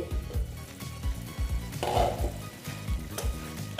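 Masala for Afghani chicken sautéing slowly in oil in a pan, giving a steady close sizzle and fry with a soft stirring scrape and faint pot clinks, and no talking.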